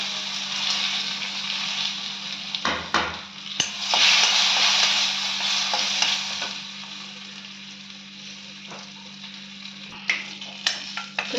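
Turmeric, chili powder and curry leaves sautéing in hot oil for curd kuzhambu, a soft continuous sizzle with occasional sharp clicks and ladle taps, a louder hiss surge near the four-second mark, and a low steady hum beneath.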